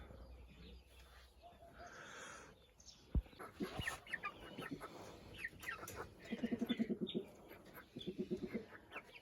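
Several chickens, downy hens out on their first free-range outing, cluck close by in short rhythmic bursts, with a few soft background noises between the calls.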